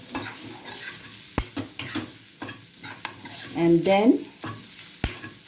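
Grated coconut frying in a pan and being stirred, with close scraping strokes over a light sizzle and a few sharp knocks; a voice speaks briefly in the middle.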